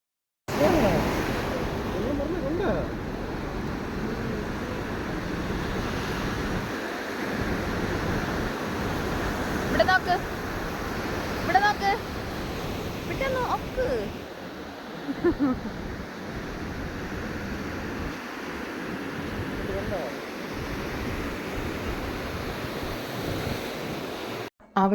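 Ocean surf at Shankhumukham beach rolls in as a steady broadband wash, with wind buffeting the microphone throughout and brief clicks and faint sounds scattered over the roar.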